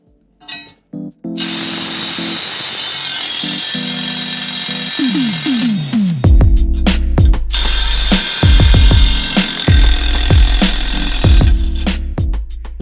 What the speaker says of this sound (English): if you get a 3/4 inch socket, you'll actually be able to pop those nuts off